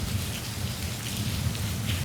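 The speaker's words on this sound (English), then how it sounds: "we are covered because you can hear the rain" Steady rain falls on a Florida day and patters on a covering overhead, forming a dense, even hiss with a low rumble beneath it. It is close and continuous, with no voices.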